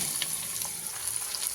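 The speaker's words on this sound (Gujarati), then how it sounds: "હવે તેલ ગરમ થઈ ગયું છે, હિંગથી આપણે આનો વઘાર કરશું" Hot oil sizzles steadily as asafoetida tempering hits the pan for a kantola curry, a continuous bright frying hiss with small pops and crackles, close and alone.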